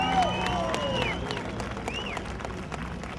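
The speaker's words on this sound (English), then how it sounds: "Big round of applause for Mitchell Brown." Crowd at Ohsweken Speedway applauds a ministock feature winner, steady clapping and some cheering from the stands, moderately loud, with a few high whistle-like tones mixed in.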